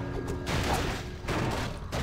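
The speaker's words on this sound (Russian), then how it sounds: "Кстати, гоблинцы взрываются." Several loud, chaotic blasts and crashes from exploding goblin sappers in Warcraft 3 Reforged burst in quick succession amid a dense, busy game soundscape.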